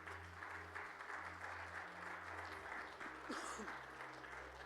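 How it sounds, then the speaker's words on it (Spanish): A church congregation claps for the Lord during a Sunday morning service, a steady wash of applause that stays fairly faint and distant over a low hum, with no clear voices. "¿Cuánto le pueden dar un aplauso al Señor, hermanos?"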